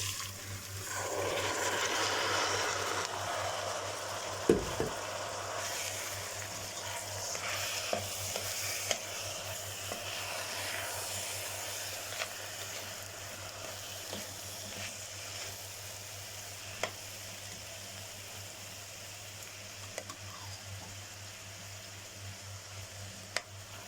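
Onion and washed rice sautéed together in a pan, stirred steadily with a soft continuous sizzle and scraping that stays fairly even for the whole stretch, with a few sharp knocks of the spoon against the pan.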